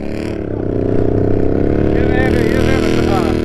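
Kawasaki KFX quad on sand dunes, its engine running loud and raw with no muffler, revving up into a sustained rasping drone close to the microphone.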